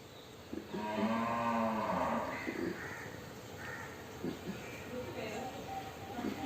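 A cow moos in a Kerala home setting, its long low call drawn out near the start, followed by crow-like caws and voices talking over the background.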